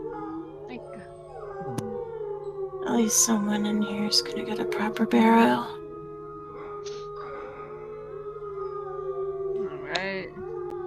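Wolves howling as ambient sound in a tabletop game session, long wavering tonal howls rising and falling over a steady hum, with people talking over the middle and later stretches.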